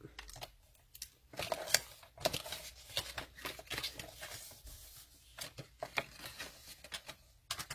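Paper being creased into folds for a handmade flip-book structure: a series of soft, close crinkles, rubs and sharp little presses in uneven bursts, quiet with brief pauses between.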